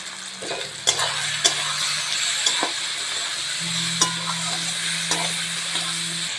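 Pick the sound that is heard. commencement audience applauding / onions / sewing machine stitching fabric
onions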